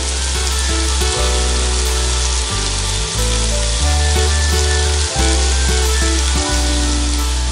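Bacon laid out in a single layer in a pan over charcoal gives a loud, dense, continuous sizzle, close up, with low rumbling thuds and shifting tones underneath.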